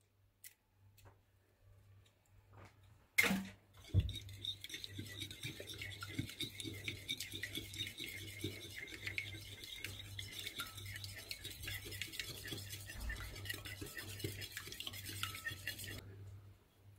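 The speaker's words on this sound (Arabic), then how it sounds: "بدي بيضة كبيرة وأحرك المكونات السائلة مع بعض" Liquid ingredients with a large egg, vanilla and a pinch of salt whisked together in a bowl for keto gingerbread cookies: after a sharp knock, a quick steady whisking patter continues for about twelve seconds, close but fairly soft, with no talking.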